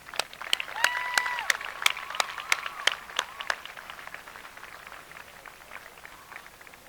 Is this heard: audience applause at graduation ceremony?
yes